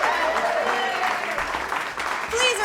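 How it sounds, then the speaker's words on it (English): Applause from a concert audience at Caffe Lena for the band, continuous clapping mixed with a sustained tonal layer and crowd murmur, rising a little at the close. "Please, another round of applause for my incredible band."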